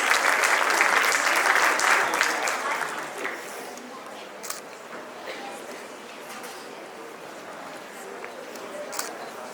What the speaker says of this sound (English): A big round of applause for them, please.